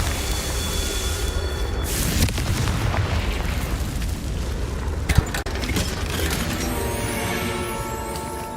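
A Confringo spell blasts in Hogwarts Legacy, a booming fiery explosion that rolls and rumbles for several seconds, with a sharp crack near the middle and a shimmering magical tail fading out at the end.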